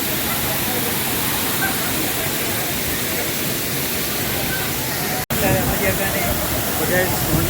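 The Anayadikuthu waterfall in Idukki rushes with a loud, steady roar of falling water. The dense noise runs unbroken except for one momentary cut, and no voices rise above it.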